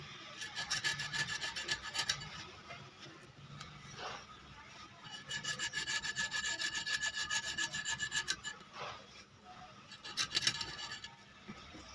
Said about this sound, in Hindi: तो इस तरीके से हमने इसको अच्छी तरीके से चिकना कर लेना है